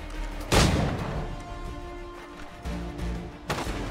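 Gunshots ring out in Assassin's Creed 3 gameplay, a sharp loud report followed by softer shots and thuds over a low ambient game background.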